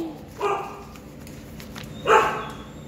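A dog barks twice, close by, with a pause of over a second between the two sharp barks, in a shelter-like setting with several dogs around.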